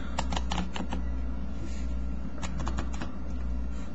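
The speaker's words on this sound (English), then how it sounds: "just kind of ruffle down a few cards like that" Playing cards riffled down into several piles on a table for a magic trick, giving bursts of quick papery flicks at the start and again near the end over a steady low hum.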